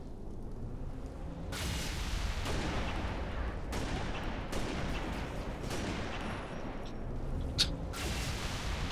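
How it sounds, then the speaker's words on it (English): Rifle shots fired in the video game Halo: Reach, a handful of sharp, loud cracks spread over several seconds amid dense game noise, with no talking. "I missed 2 of those 4 shots."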